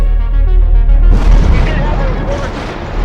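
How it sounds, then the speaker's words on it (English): During an air raid over Baghdad, heard in a news broadcast, heavy explosions roll as deep, loud, rumbling booms, with a voice speaking at the start. "Explosions in Baghdad."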